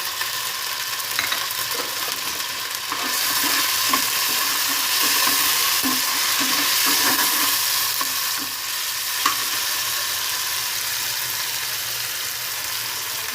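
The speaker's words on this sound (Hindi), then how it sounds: "अब इसके अंदर डालेंगे लहसुन। अब डालेंगे टमाटर।" Tomatoes go into garlic frying in a pan for a white eggplant dish, and the oil breaks into a loud, steady sizzle with stirring scrapes mixed in, close and continuous.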